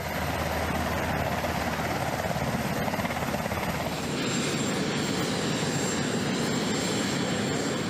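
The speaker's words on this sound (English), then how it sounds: "Marine One is the call sign of any helicopter used to carry the president on short trips." Helicopter of the kind used as Marine One, the presidential transport, flying with a steady dense rotor and engine roar that stays loud and continuous throughout, shifting slightly in tone midway, with no voices.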